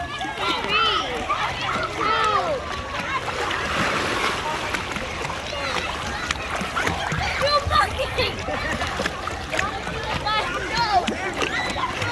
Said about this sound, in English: Hey, let me splash it up.